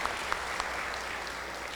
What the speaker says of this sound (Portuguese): Salva de palmas para os conterrâneos de Orobó.